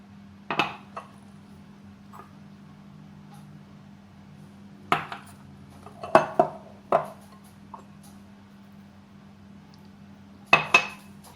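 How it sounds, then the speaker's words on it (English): Thick yogurt dessert base spooned into three bowls, heard as a few sharp clinks of spoon against dish scattered across a quiet stretch, with a small cluster of taps near the middle and one more toward the end. "And I'm going to add this in 3 different bowls."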